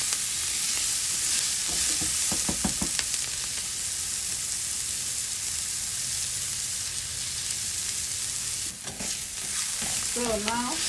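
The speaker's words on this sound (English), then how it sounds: "Just going to use it to deglaze the pan." Onion goes into a hot pan to deglaze it for pan-fried shrimp, giving a steady, close sizzle with repeated scraping and stirring strokes throughout, with no talking.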